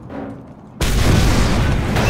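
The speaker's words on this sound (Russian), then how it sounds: "последнюю цистерну мы сейчас взрываем" A fuel tanker blows up in the Mad Max video game: after a quieter lead-in, a sudden loud blast bursts in and sustains as a dense, roaring rumble to the end.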